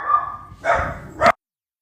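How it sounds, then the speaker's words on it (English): Dogs barking in a few separate bursts, the first a drawn-out yelp and the last a sharp, loud bark before sudden silence; no talking. "dogs are barking"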